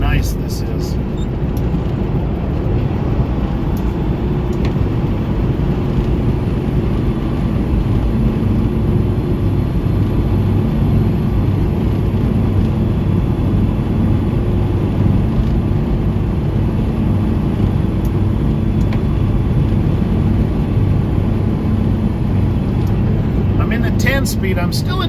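A tanker truck's engine drones steadily while climbing hills in Tennessee in 10th gear, a constant loud low rumble with road noise, unbroken for the whole stretch and free of talk.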